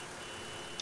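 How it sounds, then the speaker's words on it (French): A small vehicle horn in Farming Simulator 2015 gives one quick, short beep at the very end, high and faint over a steady low game hum. "C'est quoi ce petit klaxon à lui?"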